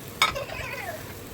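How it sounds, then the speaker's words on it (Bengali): Marinated chicken lands in a hot pan for chicken hariyali, giving a brief sharp sizzle followed by soft frying crackle and a light scrape of stirring, close and fairly quiet. "ম্যারিনেট করা চিকেনটা আমি এর মধ্যে দিয়ে দিলাম।"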